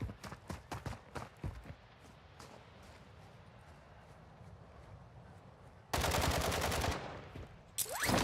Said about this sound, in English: Why is the bot shooting up in the air right there?